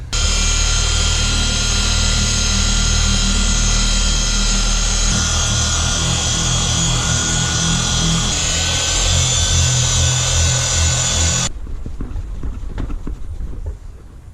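Power polisher running on the paint of a Cobalt SS car, a loud steady droning whir held for about eleven seconds before it cuts off, leaving quieter handling noise.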